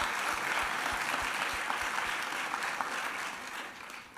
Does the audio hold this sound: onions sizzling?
no